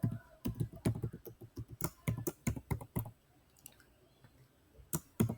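Bursts of sharp keyboard typing, quick clustered keystrokes with a short pause midway before a few final taps, close and clear.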